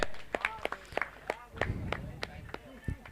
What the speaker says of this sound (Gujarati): જોરદાર તાળી વગાડજો ગોવિંદભાઈ માટે